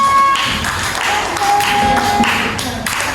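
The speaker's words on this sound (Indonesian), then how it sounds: "mana tepuk tangan kalian?" Children in a classroom clap together in a dense, continuous patter of applause that stays fairly loud and steady throughout, with no clear voices over it.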